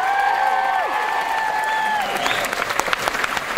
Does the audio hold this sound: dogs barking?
no